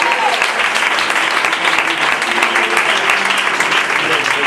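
A church congregation breaks into loud, sustained applause, dense and steady clapping from many hands filling the space for several seconds.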